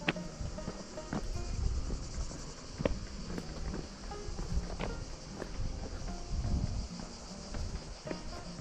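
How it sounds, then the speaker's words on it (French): Cicadas sing in the Gorges du Gardon, a steady high buzzing drone over faint footsteps and rustling outdoors. "je vous laisse écouter les cigales"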